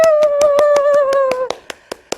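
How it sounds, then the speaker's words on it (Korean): Clapping breaks out at a laughter-therapy session for senior students, sharp evenly spaced claps over a sustained sung tone, then thinning to a few isolated claps at the end. "박수!"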